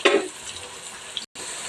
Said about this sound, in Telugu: అల్లం పేస్ట్ పచ్చివాసన పోయిన తర్వాత టమాటా ముక్కలు వేసుకున్నాం